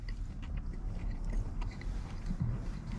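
Crunchy bites of a Wendy's pretzel bacon pub sandwich close to the mic, a series of crisp crackles over soft background noise.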